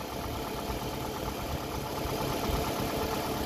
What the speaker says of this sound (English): Okay, the engine is already started.